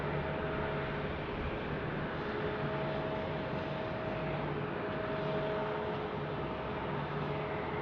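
An airliner in Star Alliance livery at Phoenix Sky Harbor gives off a steady, sustained engine drone with faint tonal whine, even and continuous throughout.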